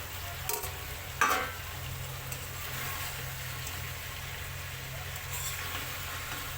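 Fish and potatoes sauté in cumin paste with a soft, even sizzle close by. A couple of sharp utensil clinks come early on, and the stirring is quiet underneath.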